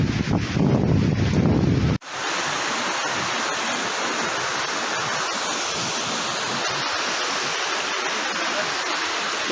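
A waterfall on the rainy mountain trek to Kedarnath roars continuously, with gusty wind buffeting the microphone. A brief louder, muffled rumble opens, then cuts abruptly to the even rush of falling water.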